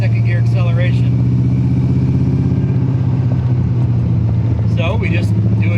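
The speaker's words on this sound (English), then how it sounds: "it's really not happy about that second gear acceleration" An EFI-swapped AMC AMX strains in second gear, a loud steady low engine drone with a rough, uneven tone and harmonic rumble, while a person speaks over it near the start and end.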